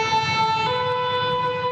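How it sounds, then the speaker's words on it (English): Emergency vehicle sirens wail through the streets of Paris, a steady, loud, close tonal siren holding without pause and with no one talking. "The sounds of sirens permeate Paris, not uncommon for a big city."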